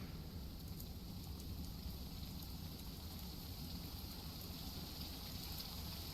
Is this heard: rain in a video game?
yes